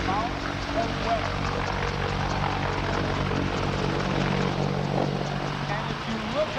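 AH-1 Cobra and AH-64 Apache attack helicopters at a flight demonstration give off a steady, loud rotor and engine roar throughout, with someone talking over the noise.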